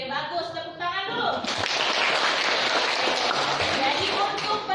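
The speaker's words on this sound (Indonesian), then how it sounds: "Tepuk tangan dulu." A classroom of students breaking into applause, with a teacher's voice briefly at the start and then a dense, sustained wash of many hands clapping close by.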